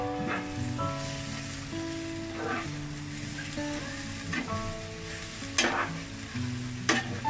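Winter vegetables and egg sizzle in a pan, a steady close frying hiss broken by several scraping strokes of a spatula stirring the mix, with no talking.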